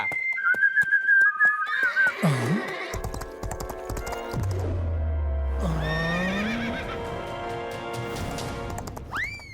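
A cartoon horse in a Honey Bunny kids' show whinnies loudly amid clip-clopping hooves, slide whistles and other bright comic sound effects, all close and busy throughout.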